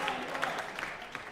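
Brief applause from a darts crowd at a finals night event, a short burst of clapping and crowd noise under a commentator's voice.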